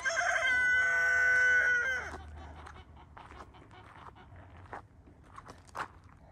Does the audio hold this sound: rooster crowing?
yes